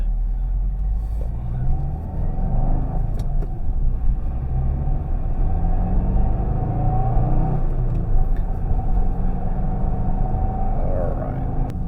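A 2024 Subaru WRX RS drives up a hill, heard from inside the cabin as a steady low engine and road rumble. Constant, moderately loud drone throughout, with no clear talk.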